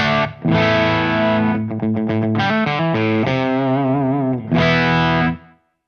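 Ibanez S320 electric guitar played through an Electro-Harmonix OpAmp Big Muff fuzz, with sustained fuzzy chords and a quick run of choppy single notes, loud and up close with no voices.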